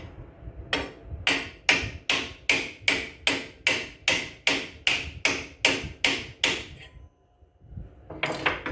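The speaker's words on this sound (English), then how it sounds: "So we got to take a little bit more and hammer back on." A hammer strikes a blade tang in a steady run of about fifteen evenly spaced, sharp metallic blows, close and loud. A brief pause follows, then strikes resume at the end.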